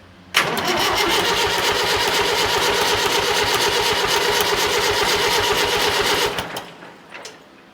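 A diesel engine on a 990 tractor cranks steadily without firing, a loud, rapid, rhythmic starter churn lasting about six seconds before cutting off abruptly, followed by faint clicks.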